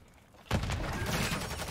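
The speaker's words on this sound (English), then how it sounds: "he's shooting from across the way." Sustained gunfire crackles in a Modern Warfare 3 match, a dense burst of shots from a shooter across the way that erupts after a brief quiet and keeps rattling to the end.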